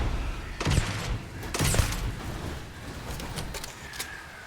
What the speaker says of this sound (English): it says it's a rifle, but it shoots like a shotgun